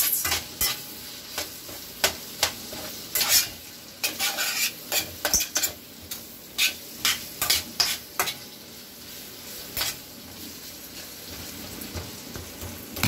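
Ground meat with chopped onion sizzling in a pan, a steady close frying hiss broken by repeated sharp clicks and scrapes of a utensil stirring against the pan, no talking.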